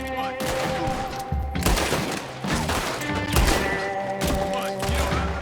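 Rapid gunfire volleys from a Red Dead Redemption 2 shootout crackle continuously at steady loudness, with dense shots and heavy thuds layered over a low rumble across the whole stretch.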